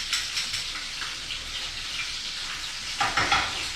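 Beef braciole browns in a hot pan with a continuous close sizzle, soft spattering and a louder burst of frying and stirring toward the end, no talking.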